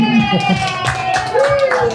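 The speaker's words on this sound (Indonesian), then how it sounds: "Oke, ya, tepuk tangan semua" Scattered hand clapping from an audience at a gathering where former police and military generals receive a book, mixed with someone talking over it.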